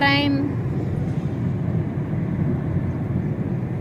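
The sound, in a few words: passing train bound for Bengaluru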